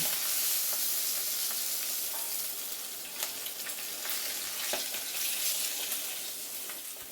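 Fish heads fry in mustard oil in a wok with a strong, continuous sizzle, broken now and then by soft clicks and scrapes of stirring, close up and without talk.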